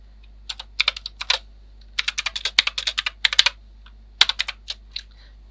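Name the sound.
typing a command on a computer keyboard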